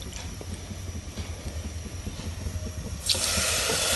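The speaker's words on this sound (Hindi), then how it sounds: "और इसमें मैं ½ कप पानी डालूंगी।" Half a cup of water poured into a pan with a cup of sugar for syrup, a soft steady trickle that turns into a louder, brighter gush near the end, with no voices.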